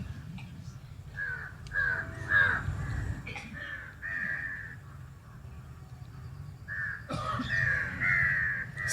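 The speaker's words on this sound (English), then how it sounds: "those crows are a bit noisy." Evening crows caw repeatedly in harsh, overlapping calls, some near and loud, others fainter, over a low background rumble.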